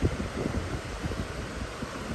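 Wind gusting outdoors near Cane River Falls, a hidden waterfall in Jamaica, a steady close rumbling roar buffeting the microphone throughout with no voices.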